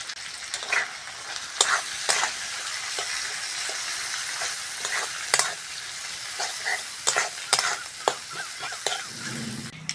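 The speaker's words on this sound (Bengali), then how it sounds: "বন্ধুরা মাছের ডিমটা ভালো করে ভেজে নিয়েছি" Fish roe fries with onion, salt and turmeric in a pan, a continuous close sizzle broken by sharp spatula scrapes and knocks at irregular intervals as it is stirred.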